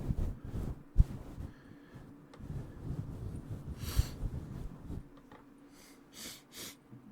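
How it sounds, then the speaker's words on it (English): A person sniffling through a stuffy nose in a quiet room, several short wet sniffs and snorts at irregular intervals, close to the microphone, with soft breathing between them. "Sorry, I'm sniffling."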